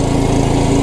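A riding lawn mower's engine runs steadily at close range, a loud continuous mechanical drone with a low harmonic hum and no pauses.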